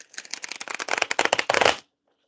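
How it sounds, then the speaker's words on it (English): A deck of tarot or oracle cards is riffled close up in a fast flurry of papery flicks that grows louder, then stops abruptly into silence. "She's got me shuffling these cards"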